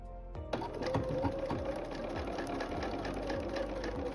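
A sewing machine stitches a seam on a small quilt block, running in a steady, fast mechanical whir with rhythmic needle ticks, starting after a brief pause and continuing close and even.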